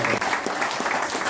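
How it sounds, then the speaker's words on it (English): Audience applause for Jimmy Harper at a motorbike show, a brief, steady burst of many hands clapping with no pause. "what about a big round of applause for Jimmy Harper"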